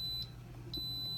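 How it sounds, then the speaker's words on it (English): An Instant Pot pressure cooker signals that cooking is finished with two short, high electronic beeps about half a second apart, heard over a low steady hum. "it's beeping, it's done."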